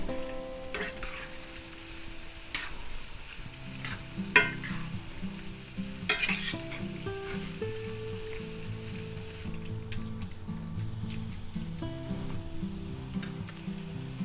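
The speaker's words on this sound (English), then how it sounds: "I am going to add a little more salt and a little bit more pepper. And we'll mix that in again." Fettuccine Alfredo is stirred in a hot pan after salt and pepper go in, with a constant soft sizzle and intermittent utensil scrapes and taps, heard up close without speech.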